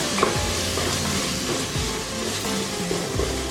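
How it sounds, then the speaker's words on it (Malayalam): Chicken biriyani masala with curd being stirred in a hot pan, rhythmic scraping of the spoon over a continuous sizzle, close and fairly loud, no talk. "നല്ലതുപോലെ ഒന്നുകൂടെ ഇളക്കുക"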